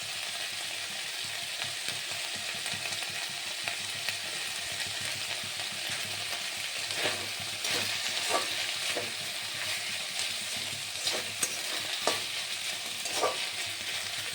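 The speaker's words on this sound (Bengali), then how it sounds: "এবারে দেব গোটা জিরে আর শুকনো লঙ্কা আর তেজপাতা।" Whole cumin seeds, dried red chillies and bay leaf crackle and sizzle steadily in hot oil, a dense close frying hiss with a few sharper pops and spatters and no talking.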